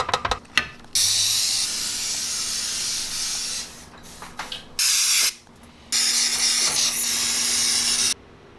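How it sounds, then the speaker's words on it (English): CRC parts degreaser is sprayed onto Indian motorcycle engine parts, with a few close clicks and taps followed by loud sustained aerosol hissing in three bursts, the last and longest running about two seconds. "So I'm just using some CRC parts degreaser. I'll spray this down"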